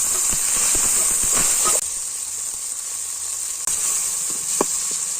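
Cinnamon, cloves, cardamom, onion, tomato and curry leaves frying in hot oil for a chicken gravy, a steady loud sizzle and hiss close by with a few soft pops and stirring knocks.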